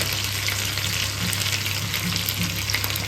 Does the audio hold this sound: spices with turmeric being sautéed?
yes